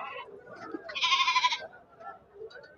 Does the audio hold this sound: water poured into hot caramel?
no